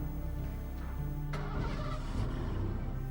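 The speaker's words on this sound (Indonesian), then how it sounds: "Kok kayak suara mobil bokap?" A father's car engine starts up partway through, its cranking turning into a steady running idle that is heard from a moderate distance under a constant background hum.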